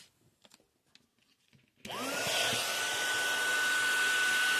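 A heat gun on a gourd being embossed and finished switches on after a couple of seconds of quiet handling noises, then blows a loud, steady whirring roar with a constant high whine to the end.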